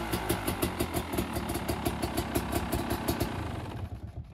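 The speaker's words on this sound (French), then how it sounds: "ça c'est des motos deux temps" A 2012 KTM 250 EXC Six Days two-stroke motorcycle engine idles with a steady, slightly uneven putter that fades out near the end, fairly close and without talk.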